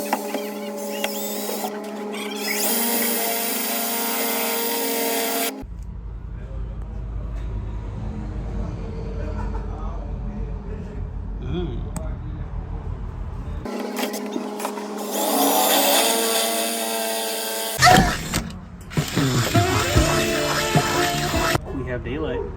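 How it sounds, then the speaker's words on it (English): Drilling holes for a bolt-in roll cage in a Nissan 240SX drift car: two long, loud bursts of steady, whining drill noise, separated by a quieter stretch of low rumbling shop sounds, with more clattering work near the end. "it's gonna be a little bit of drilling, a little bit of fabrication"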